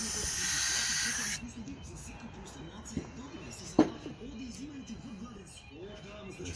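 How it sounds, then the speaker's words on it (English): Aerosol spray hissing into the engine of a Toro 621QZE snowblower that will not start, a loud steady burst of about a second and a half, followed by faint handling noises and a few sharp clicks. "Then we spray here."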